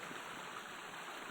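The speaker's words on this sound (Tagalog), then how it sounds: "Nandito na po kami sa ilog." River water flows steadily in a rural countryside spot where water buffalo are brought to cool off, a soft, continuous rushing wash heard alone and fairly faint.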